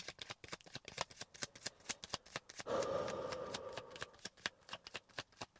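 Tarot cards are shuffled close up, with rapid riffling flicks, a brief sliding swish in the middle, then more quick taps, quiet and with no talk.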